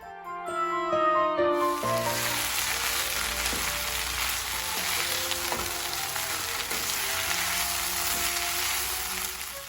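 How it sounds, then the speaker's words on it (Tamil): Boneless chicken pieces sautéing in a pan sizzle loudly and steadily from start to end, with occasional stirring clinks and no speech. "நல்லா வேக வச்சுருக்கிற போன்லெஸ் சிக்கன் பீசஸை போட்டு நல்லாவே வதக்கிக்கோங்க"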